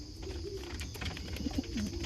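Pigeons coo close by in a pigeon loft, soft throaty warbles rising and falling over a light background hiss, with a few brief bursts in the second half.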